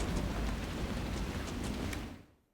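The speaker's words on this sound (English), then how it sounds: "I just love it when it rains" Steady heavy rain in the Dragon Age Inquisition video game, a dense hiss of falling drops with a low rumble that fades away at the end.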